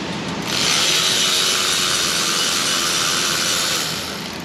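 Pulling a stud out of an engine bracket during an LS4 camshaft teardown gives a steady, loud grinding whir that runs nearly four seconds without a break, with no talk over it.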